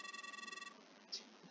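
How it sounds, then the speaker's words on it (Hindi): Telephone ringing on an outgoing call to the police, a rapid electronic ring tone pulsing evenly for under a second before cutting off, followed by a short faint blip. "आपके फोन की आवाज।"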